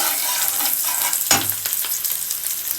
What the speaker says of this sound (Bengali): এখানে দেখুন আমি তিন থেকে চারটার মতো গোলমরিচ দিয়ে দিচ্ছি